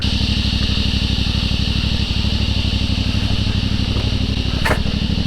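A CFMOTO 450MT motorcycle ridden hard off-road gives a steady, close, pulsing engine drone with a rapid regular beat throughout, and a brief sharp scrape or clatter near the end.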